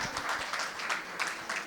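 An audience at a school poetry recital breaks into continuous applause, a dense wash of many hands clapping at moderate volume, with a faint voice underneath.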